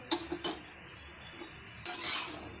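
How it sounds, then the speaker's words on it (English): Spices stirred in a pan for matar paneer, with a few sharp metal clinks of a spoon against the pan, a quiet pause, then a longer scraping stir, close and fairly soft. "Mix everything well."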